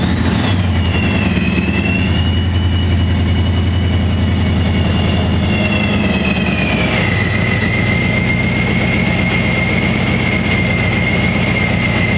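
A 1985 Mercury Foxbody engine idling, a loud, close, steady drone whose pitch shifts and settles partway through, with no talking.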